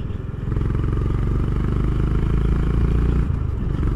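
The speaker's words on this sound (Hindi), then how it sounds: "Just listen to this exhaust note." Honda H'ness CB350 motorcycle exhaust rising as the throttle opens, a steady loud thumping single-cylinder note close by, building in the first half second and holding strong before easing slightly near the end.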